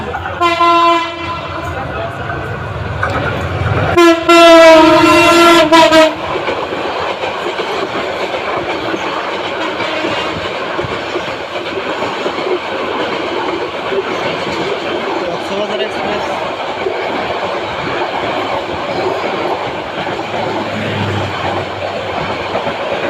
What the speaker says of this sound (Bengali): সামনের দিকে ট্রেন আসছে দ্রুত গতিতে